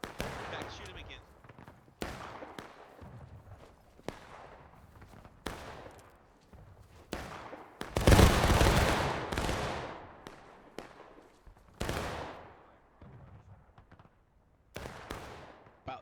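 Musket volleys and single shots ring out across a War of Rights battlefield, sharp cracks recurring every second or two with one heavy, loud burst of massed fire in the middle, while voices talk over the fighting.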